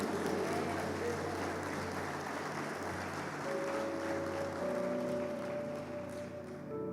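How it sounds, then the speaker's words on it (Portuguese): A church congregation applauding during a service, a steady wash of clapping at a fairly low level with a voice faintly present over it. "Aplauda a palavra do Senhor e diga glória a Deus."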